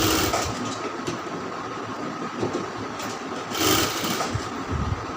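A sewing machine stitching the sleeve of a round kameez, a continuous close mechanical whir with a steady rhythmic drone, no talk.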